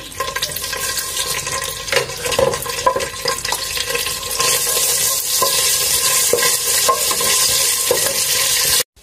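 Cumin seeds sizzle in hot oil in a home kitchen, a bright crackling hiss that builds and stays steady, with a few clinks and stirring scrapes underneath.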